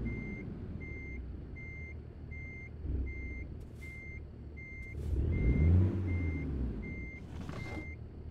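Truck reversing alarm in American Truck Simulator, a steady evenly spaced series of loud beeps running throughout over a low idling diesel rumble, with a brief engine swell midway.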